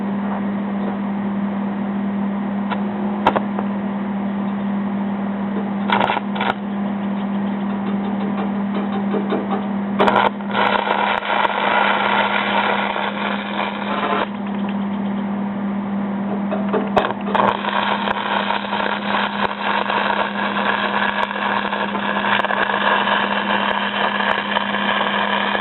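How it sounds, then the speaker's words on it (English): Aluminum being welded makes a loud, continuous buzzing hiss over a steady low hum, with small crackling surges that come and go across the whole span. "I'm sure not any aluminum welder, but it's getting good penetration."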